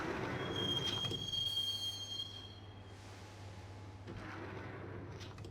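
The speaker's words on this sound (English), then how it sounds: "the train doors had already shut behind me, and I was in for the ride" A subway train rides through the Max Payne video game, rumbling steadily with metallic wheel squeal and a thin high whine. The rumble thins briefly mid-ride before returning, with no voices.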